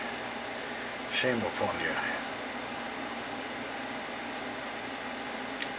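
A room air conditioner runs with a constant low hum and hiss in the background, while someone briefly speaks over it.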